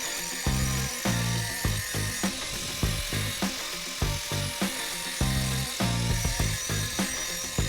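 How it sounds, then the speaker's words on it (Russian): An angle grinder cleans up a fresh weld seam during a renovation of an old house's corridor. It runs in repeated harsh, rasping bursts that swell and drop off in an uneven rhythm, loud and close, with no talk. "Сейчас еще болгаркой зачищу и покажу, как получилось."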